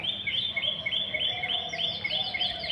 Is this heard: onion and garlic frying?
no